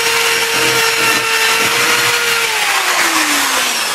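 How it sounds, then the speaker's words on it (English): A reversible drill with a wire brush grinds steadily on metal, scouring rust from channels on a 1969 XW Ford Falcon down to bare metal, a loud close whir whose pitch slowly drops as it slows. "This is a reversible drill, so we can sort of run along like that."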